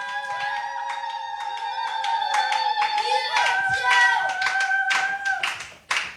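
A church congregation claps in praise during a sermon, a dense burst of rhythmic applause lasting several seconds with voices and tones ringing over it before it cuts off.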